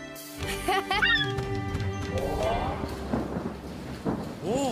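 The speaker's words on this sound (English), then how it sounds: "seems like a serious storm simmering to the south" A rumbling thunderstorm in a Paw Patrol cartoon, low thunder rolling steadily under a musical score and animated character sound effects throughout.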